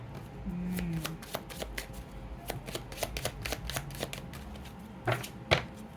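Tarot cards shuffled by hand in a quiet room, a steady run of soft riffling flicks and slaps, close and fairly faint, with a couple of sharper taps near the end.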